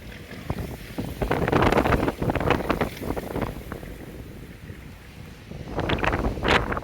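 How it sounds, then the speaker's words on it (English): Strong West Texas wind gusts up to 60 miles an hour buffet the microphone in loud, roaring bursts that rise and fall, easing briefly before another heavy gust hits. "Getting gusts up to 60 miles an hour"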